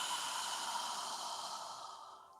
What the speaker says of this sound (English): open your mouth and exhale.